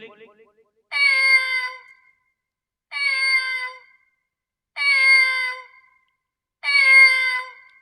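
A voice imitates a cat, giving four drawn-out meows at an even pace, each separated by about a second of silence.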